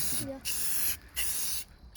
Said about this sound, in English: Stand back so I don't spray you.